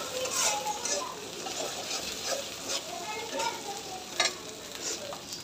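Food frying in a pan is stirred, giving a constant sizzle broken by scraping strokes and a few sharp clinks of a utensil against metal, all close and without talk.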